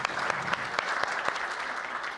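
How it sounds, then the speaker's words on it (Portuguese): An audience claps for a priest at a university extension event, a steady, dense round of applause from a crowd filling the room throughout. "Palmas para esse padre, gente."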